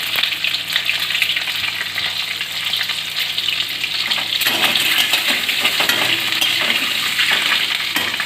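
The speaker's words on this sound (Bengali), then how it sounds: "ডিমগুলোকে একটু ভেজে নেব, অল্প তেল দিয়ে শ্যালো ফ্রাই করে নেব" Eggs spit and crackle as they shallow-fry in a small amount of oil. The sizzle is steady and close, grows slightly louder partway through, and has scattered pops over it.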